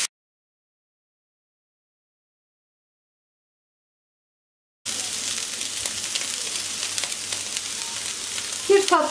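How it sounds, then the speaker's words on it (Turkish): Peppers and vegetables sautéing together over high heat for a celery dish, a steady loud sizzle that starts abruptly after several seconds of silence and runs on, with a few clinks near the end. "Biberleri de ekleyip hepsini beraber de yüksek ısıda 1-2 dakika kadar kavuracağım"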